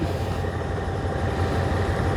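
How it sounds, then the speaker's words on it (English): A steady low rumble of a train departing and rolling along the tracks on the line to Pattaya, Thailand, continuous and fairly close, with no voices. "And there goes the train."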